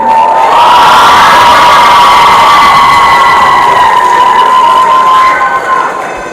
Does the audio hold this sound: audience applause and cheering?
yes